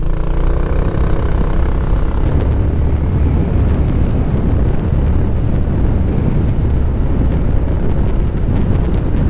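Kymco Xciting scooter on a test ride, heard as a steady, loud roar of engine and wind rush that stays constant throughout, with no voices.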